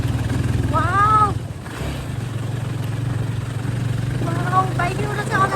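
Motorcycles rumble and rev along a rough off-road mountain track, a continuous mid-pitched engine drone with surging throttle, while a rider talks over it.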